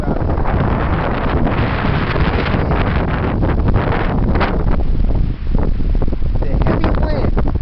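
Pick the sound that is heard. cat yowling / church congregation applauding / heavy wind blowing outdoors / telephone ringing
heavy wind blowing outdoors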